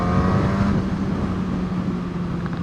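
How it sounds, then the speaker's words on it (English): Suzuki GSX-S1000 motorcycle with its stock exhaust, the engine running loud and close with a steady, throaty drone and rich harmonics that ease slightly after the first second. "I got a stock exhaust on it. It would sound a lot better with an aftermarket."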